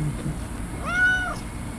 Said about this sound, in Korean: 고양이가 여기 있나?